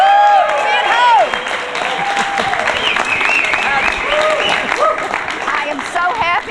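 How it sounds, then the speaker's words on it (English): An audience at a political event gives a loud, sustained round of applause that runs the whole stretch, with voices cheering and calling out over the clapping. "let's just have a great round of applause for being home"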